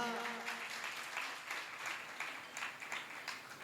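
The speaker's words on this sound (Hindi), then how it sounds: "तो बजा दो तालियां" Audience applause after a sermon, a steady patter of many hands clapping in a hall, moderately distant and fairly quiet, with rhythmic pulses running through the brief burst.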